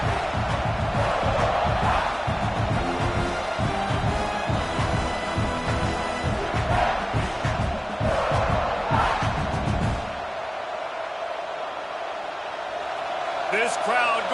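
Stadium crowd roaring in College Football 26 during a road game at South Carolina: a dense, continuous crowd din with rhythmic chanting pulses, under commentary, dropping to a quieter murmur near the end.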